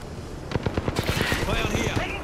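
Rapid automatic gunfire in the video game Apex Legends, a fast rhythmic string of sharp bursts that grows denser, heard close with a voice speaking over it.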